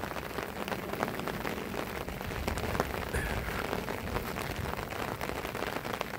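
Steady rain pattering on a surface, a dense hiss of drops close by and fairly quiet, with no voices.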